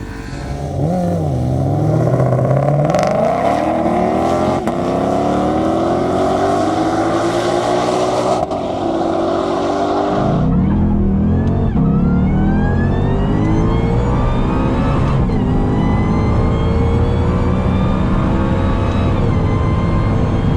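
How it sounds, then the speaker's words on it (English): A twin-turbo Shelby GT500 accelerates hard on a half-mile run. A loud, continuous engine roar climbs steadily through the gears, with a brief shift break near the middle before it rises again to the end. "Decided to make one more hit in Brandi's car to back up that 170 plus hit"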